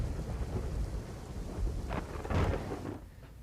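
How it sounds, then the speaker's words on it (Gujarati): Heavy monsoon rain pours steadily over Kutch in Gujarat, with low rumbling thunder rolling beneath a constant hiss of downpour and a louder crack-like swell near the end before easing. "સમગ્ર કચ્છમાં હાલ વરસાદી માહોલ જામેલો જોવા મળી રહ્યો છે।"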